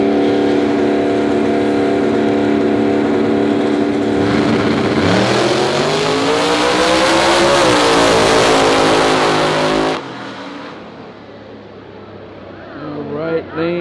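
A Supra and a Camaro launch in a no-prep small-tire drag race final at New England Dragway, New Hampshire: a loud sustained engine roar swells and rises in pitch, then cuts off sharply, with a commentator talking throughout.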